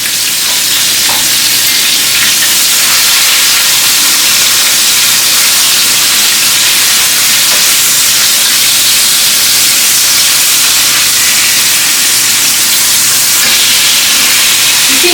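Buttermilk chicken pieces frying in a hot pan, browning in oil with a steady, dense sizzle and hiss that carries on without a break, close and fairly loud, with no voices.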